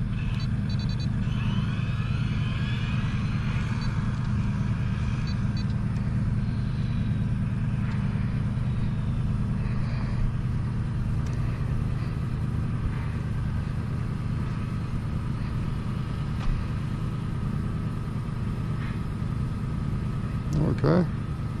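A Hobao VTE 2 RC car drifts around with a steady low motor rumble and a continuous whine, heard from close by without pause for about twenty seconds.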